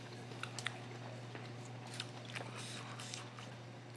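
Biting and chewing a crunchy sandwich during a New York City food tour, with a few scattered soft crunches and wet chewing over a low steady hum. Quiet background talk is heard.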